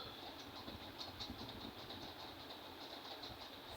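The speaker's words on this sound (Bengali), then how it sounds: "তো আমি আগের মতো সেলাই দিয়ে নিচ্ছি" Sewing machine stitching kameez fabric runs in a faint, steady mechanical whir with quick rhythmic ticking, continuous and alone throughout.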